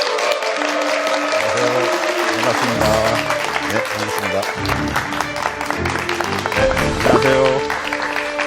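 A lecture audience applauds continuously to welcome a visiting professor, a dense wash of clapping that runs underneath a man's greetings spoken close to the microphone.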